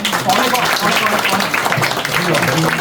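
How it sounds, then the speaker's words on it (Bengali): Audience applause fills an awards ceremony at the 39th FOBANA convention in Atlanta, 2025, a dense, continuous clapping wash that runs steadily throughout with voices mixed in. "সবাইকে সবার জন্য একটা হাততালি দেন আপনারা"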